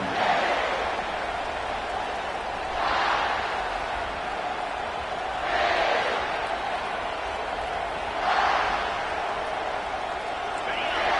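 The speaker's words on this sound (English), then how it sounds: "They challenge this crowd to bring the energy, and I'd say they're doing that." Crowd at a Texas football stadium roars in a steady, dense wash of cheering that swells loudly about every three seconds during a game.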